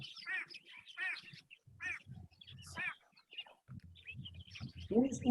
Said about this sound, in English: I can hear some birds.